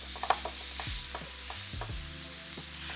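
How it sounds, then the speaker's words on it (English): Minced meat browning in a pan while a wooden spoon breaks it up, a soft continuous sizzle with scattered scraping taps and low hum underneath. "pop the mince in and then just break it up with a wooden spoon"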